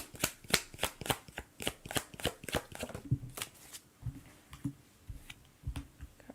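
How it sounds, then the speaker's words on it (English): Tarot cards are shuffled by hand, a rapid run of crisp riffling clicks in a steady rhythm that slows and softens toward the end, close and quiet with no talk. "Because I already started shuffling for her."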